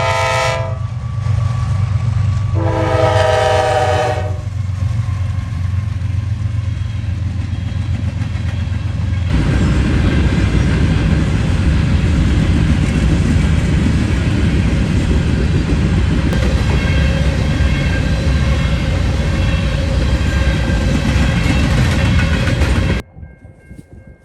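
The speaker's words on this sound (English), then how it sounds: "a grain train heads eastbound at milepost" Norfolk Southern grain train heading eastbound at milepost 173 on the Dayton District, opening with loud horn blasts, then a steady close rumble of passing cars that cuts off abruptly near the end.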